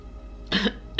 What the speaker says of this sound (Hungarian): Mióta van már rajtad a köhögés?